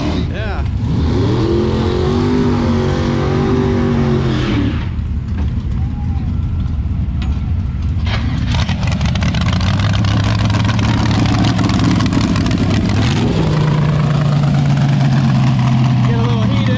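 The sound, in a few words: Chevrolet C10 drag racing engine revving and idling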